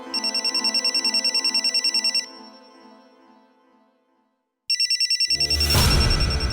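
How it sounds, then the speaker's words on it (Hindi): A telephone rings in steady electronic trills, pauses, then rings again as a loud rustling noise rises close by. "लगता है रवि का फोन होगा।"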